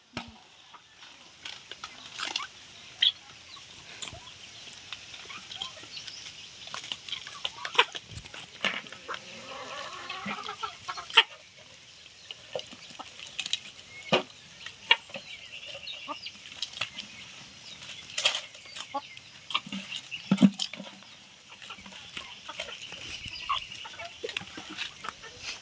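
Small chickens feed up close, with scattered clucks, sharp pecking taps and brief flutters over a long, busy stretch.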